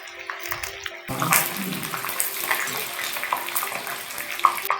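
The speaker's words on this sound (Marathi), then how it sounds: "आता आपण मीडियम गॅसवरती ह्या पट्ट्या तळून घेऊयात" Noodle strips drop into hot oil on a medium flame and begin to fry, with a sudden rise into a steady, crackling sizzle that keeps going.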